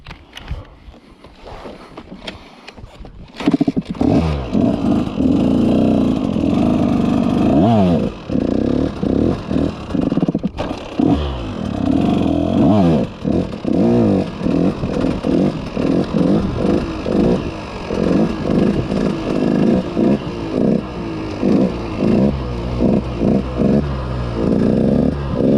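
A dirt bike engine revs hard during a circle wheelie ridden without the clutch, a loud, close, continuous rising and falling drone with rapid throttle pulses after a quieter start.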